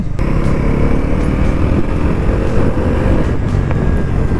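Bajaj Pulsar NS 400 motorcycle riding along Dharmanagar Road, a steady, loud engine drone with rushing wind noise running continuously from start to finish, no voices.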